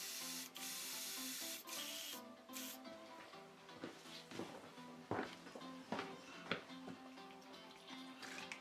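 Spray can misting a flat clear coat over a custom Firestar statue from Savage Dragon, with a steady hissing burst in the first few seconds, then scattered rubbing and handling noises as the spraying stops.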